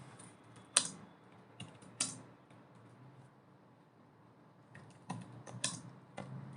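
Computer keyboard typing C++ code: a few sparse, fairly quiet keystroke clicks in small clusters with pauses between them, in a quiet room.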